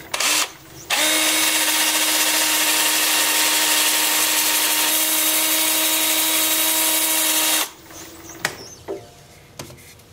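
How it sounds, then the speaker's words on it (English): A lathe spinning in reverse while a wooden bowl is sanded gives a steady whine with a strong sustained tone for several seconds, then cuts off, leaving a few light knocks and rubbing sounds. "Time for sanding. Start in reverse."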